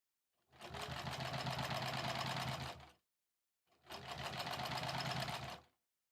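A sewing machine runs in two sustained bursts of about two and a half seconds each, stitching rows of a quilt-as-you-go quilt, with a steady mechanical hum and a short pause between the runs.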